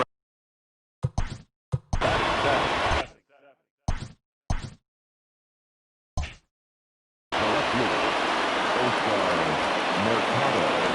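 Rain falling on a ballpark in the baseball game MLB The Show 20, a steady loud hiss filling the final seconds after several short separate bursts of sound.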